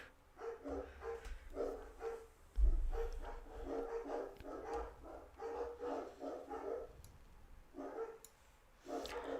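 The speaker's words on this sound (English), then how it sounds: "The dogs are going crazy." Dogs bark excitedly and repeatedly at moderate volume, the barks coming in rapid uneven bursts for several seconds, with a brief pause before the barking resumes.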